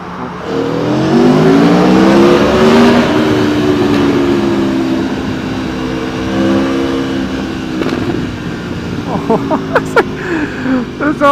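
A 2017 Aprilia Tuono Factory motorcycle revs hard inside a tunnel, its exhaust rising in a loud, echoing sustained roar with harmonic bands, then settling before a burst of sharp crackling pops near the end.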